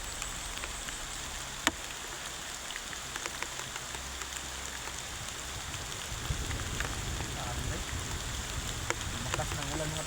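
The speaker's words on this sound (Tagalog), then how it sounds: "Grabe itong ulan na eh." Heavy rain pours down in a steady, loud hiss, with dense drops drumming on a surface throughout and occasional sharper splashes standing out.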